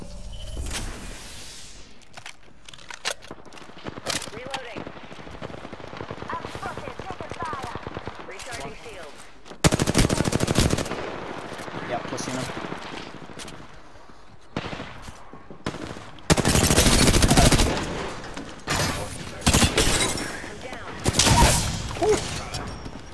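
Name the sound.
gunfire in the video game Apex Legends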